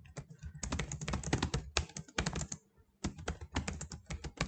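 Fast typing on a computer keyboard, with dense close clicks in two bursts split by a short pause, loud and clear with no speech.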